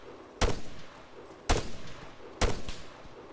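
Three separate gunshots from soldiers in a combat video game, each a sharp crack with a brief tail, evenly spaced about a second apart and moderately loud against a quiet background.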